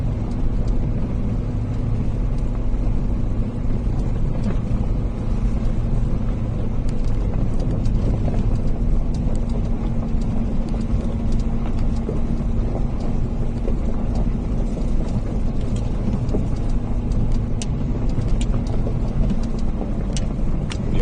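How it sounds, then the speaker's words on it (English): A truck crawls slowly along an off-road mountain trail in Colorado's San Juan Mountains at about six miles an hour, its engine a steady low rumble with wind buffeting throughout and no speech. "We're just going nice and slow, not putting a strain on the truck."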